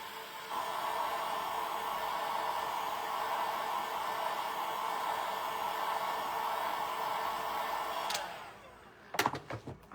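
A hair dryer blows steadily on a part of a DIY craft kit, giving a constant close airy roar for about eight seconds before switching off, followed by a few light clicks and knocks.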